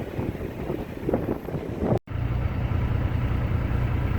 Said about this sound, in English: it's a 35-mile-an-hour wind gusts this morning